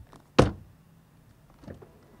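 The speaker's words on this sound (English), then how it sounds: "Oh, by the way, door closing sound." A BMW 330e plug-in hybrid sedan door shuts with one solid, close thunk, followed by a faint second softer knock a little over a second later, in otherwise quiet surroundings.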